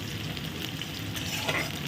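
Onions frying on a low flame with fenugreek and garlic, a steady close hiss and crackle of sizzling oil throughout, with no talk.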